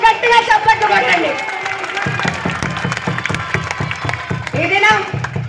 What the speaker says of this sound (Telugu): నన్ను గట్టిగా చప్పట్లు కొట్టండి